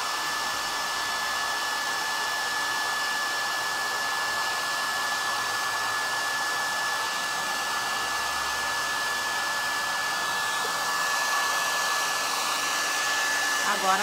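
A hair dryer blows on fresh paint on a plaster frame, a steady close whirring hum with an airy hiss held without a pause, swelling a little near the end, with no speech.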